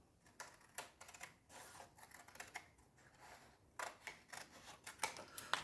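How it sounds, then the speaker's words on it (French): Scissors recutting paper, a quiet close series of crisp snips and paper rustles in an uneven rhythm, growing a little sharper toward the end. "je vais recouper au ciseau"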